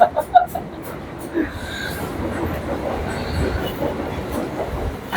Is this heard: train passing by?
yes